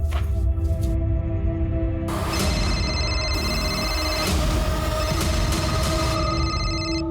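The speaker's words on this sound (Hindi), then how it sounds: "अम्मी देखो, अब्बू का ही फोन है।" A telephone rings with a bright, repeating electronic tone over steady background noise, several rings in a row, fairly loud and close.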